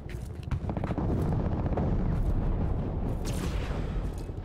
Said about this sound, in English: I'll take care of the rebel mortars first.